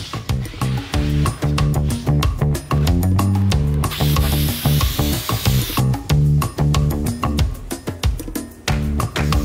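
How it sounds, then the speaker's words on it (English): Rapid bursts of heavy duty spray adhesive hissing onto a semi-inground pool wall for foam, mixed with clattering mechanical clicks, loud and close, with a sustained hiss in the middle. "use this heavy duty spray adhesive that came with it, and start spraying this down"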